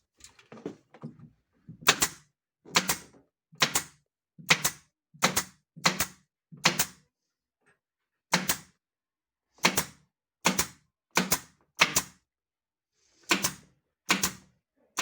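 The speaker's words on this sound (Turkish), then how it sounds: "Şimdi geri kalan kısımlarının zımbalarını yapacağız." A staple gun fires upholstery fabric onto a workshop chair, giving about sixteen sharp, close snaps in irregular bursts with short pauses between them. No one speaks.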